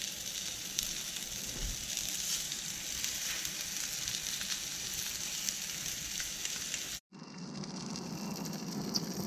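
Salmon sears in a cast iron pan over a gas burner, a steady close hiss and sizzle of frying that runs on continuously, broken by one brief cut before resuming.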